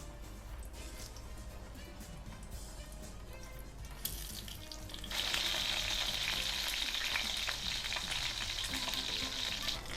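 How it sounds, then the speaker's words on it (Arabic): Boiled mumbar, a stuffed sausage casing, drops into hot oil with a spoonful of ghee; a steady low sizzle surges suddenly into a loud, hissing fry that holds close and continuous. "شويه زيت كده وعليهم معلقه سمنه، وننزل بالممبار بتاعنا بعد ما اتسلق"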